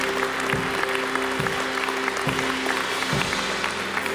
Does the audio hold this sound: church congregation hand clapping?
yes